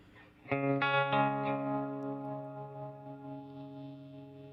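A Walrus Slotva pedal with its lo-fi knob engaged processes a guitar: a few strummed chords ring out with a wavering, detuned chorus shimmer, decaying slowly on their own with no talking.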